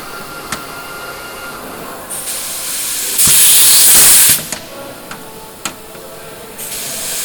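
A pneumatic riveting tool working on a rib of a Lancaster bomber under restoration: loud bursts of air hiss, one long blast of about a second, with sharp clicks and knocks between.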